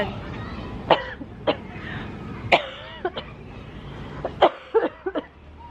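Several single coughs, sharp and brief, spaced irregularly with quiet pauses between them, in a small room.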